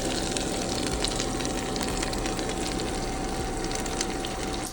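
Hogfish and mutton snapper fillets sizzle in a pan of key lime butter sauce, a steady, loud bubbling crackle that holds evenly throughout with no talking.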